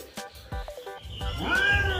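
Cats play-fighting at home, giving short meows and a drawn-out yowling cry that rises toward the end, close and fairly loud.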